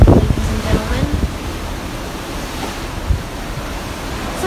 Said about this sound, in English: And there is the beautiful Atlantic Ocean